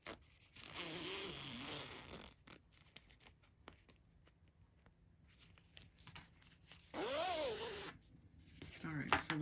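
A fabric zipper panel is handled up close, with soft zipping, scratching and crinkling sounds in uneven bursts, faint overall.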